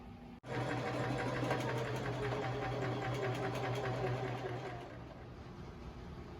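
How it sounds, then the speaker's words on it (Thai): A sewing machine stitches fabric for a homemade Halloween costume in a continuous, steady mechanical whir with rapid rhythmic clatter, close and alone, easing slightly toward the end. "กำลังจะเย็บผ้าจ้ะ"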